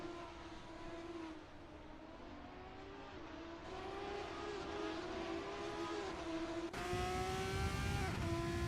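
Sim racing race car engine on board in a simGP round at Dubai, a loud sustained high whine rising and shifting pitch through gear changes, with a sharper surge near the end.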